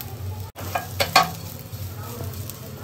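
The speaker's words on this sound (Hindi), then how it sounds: "और मैं अब फ्राई करूँगी" Soya chunks frying in a large pan, a soft steady sizzle with a few spoon clinks and stirring scrapes near the start, fairly quiet and close.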